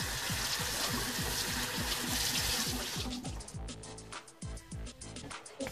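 Water runs from a tap in a steady rushing stream, then cuts to a trickle with uneven splashes and drips.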